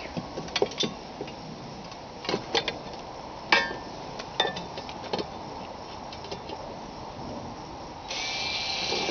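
A screw being driven into a wooden piece of a handmade laundry basket, heard as a scatter of sharp ticks and short grinding bursts with a steadier buzzing whir near the end, close up and fairly quiet.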